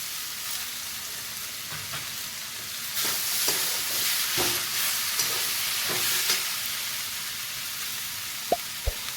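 Red lentils (masoor dal) are stirred and fried in a pan with cucumber and Malabar spinach. A steady sizzle runs under repeated scraping stir strokes, and two sharp knocks sound near the end, with no talking.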